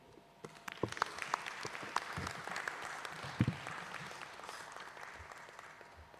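Applause from a conference audience at an Africa Methodist Council gathering, a steady wash of many hands clapping, moderately distant, with a few sharper nearby claps standing out.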